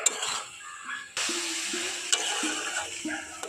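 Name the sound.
stirring coconut and sesame mixture in a pan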